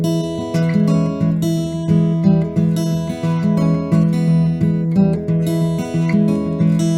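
Acoustic blues guitar fingerpicked at a brisk tempo, a steady rolling bass pattern under bright treble notes, loud and close with no talking.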